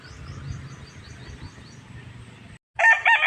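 Backyard chickens with a rooster crowing in a rural Filipino garden plot; repeated clucking and crowing fill the first stretch, then a brief gap before a louder, brighter crow bursts in close at the end.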